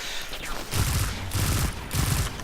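Weapon fire in Destiny 2 rings out in three loud, evenly spaced bursts of rapid shots over a steady bed of game noise, each volley close and punchy.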